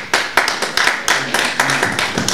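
Audience applause at a political address on the president's record and gender promotion in the army, heard as a loose run of sharp hand claps, fairly close and uneven, with a few louder bursts.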